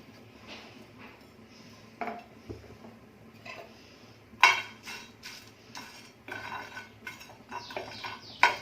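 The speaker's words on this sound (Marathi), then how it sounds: "थोडस जरा एक मिनिटभर भाजून घ्यायचं आहे हा अख्खा मसाला आहे" Whole spices, including fennel, nutmeg, star anise and cardamom, are dry-roasted in a pan and stirred with a metal utensil, giving irregular close scraping and clinking over a faint dry sizzle.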